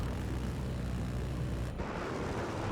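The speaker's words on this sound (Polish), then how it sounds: "śmigłowiec, uwaga!" Helicopter in Battlefield 4 multiplayer, a dense rumbling rotor and engine roar that stays loud and steady, with a brief dip near the end and no talk over it.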